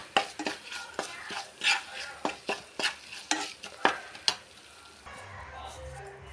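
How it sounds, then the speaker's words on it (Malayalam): Chilli and fenugreek powders are stirred into oil for a jackfruit pickle, with a dozen or so distinct scraping strokes of a spoon against the pan in uneven rhythm over a faint sizzle, ending in a brief softer clatter. "ഇനി ഒന്ന് നന്നായി ഇളക്കി കൊടുക്കും. എണ്ണയിൽ വഴറ്റി കൊടുക്കും."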